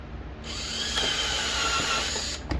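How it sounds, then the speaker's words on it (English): A high-pitched electric drill whirs steadily for about two seconds, close by, drilling a hole during a 2021+ Ford Bronco halo light install, then spins down with a couple of faint clicks. "Let's go ahead and drill that hole."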